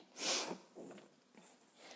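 A blocked nose gives one sharp, close sniffle, followed by a couple of fainter nasal breaths in an otherwise quiet room.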